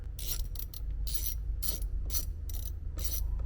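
A ratchet wrench clicks out 8mm bolts from a truck steering wheel, in quick bursts of sharp ratcheting clicks at close range with short pauses between strokes.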